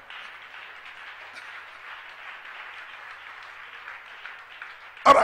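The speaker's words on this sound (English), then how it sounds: "If you want to clap, you can clap." A church conference audience claps steadily in a thin, continuous patter that sounds somewhat distant, before a sudden loud burst cuts in at the very end.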